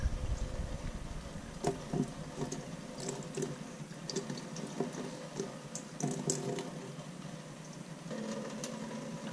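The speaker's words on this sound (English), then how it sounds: "Look how much water is pouring off the front." Water from a house gutter spills and splashes over the screen of a Costco rain barrel, a faint, continuous trickle and patter with a few sharper drips.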